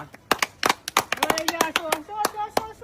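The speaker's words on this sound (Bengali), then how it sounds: "জোরদার তালিয়া কাকুর জন্য জোরদার তালিয়া" A group claps for an uncle during a bottle-flip game at a casual gathering, in irregular bursts of claps under excited chatter.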